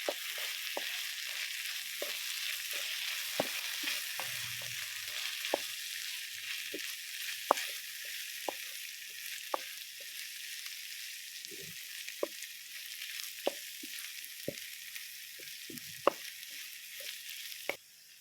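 Onions and capsicum fry in a pan for Mumbai-style street-food pav bhaji. A steady, soft sizzle runs throughout, with scattered light clicks from stirring.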